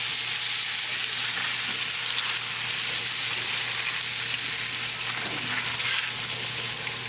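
Pan-fried potatoes with a whole lemon squeezed over them, stirred in a hot skillet, a loud dense sizzle that holds steady throughout, with faint scraping of the spatula beneath it and no talking.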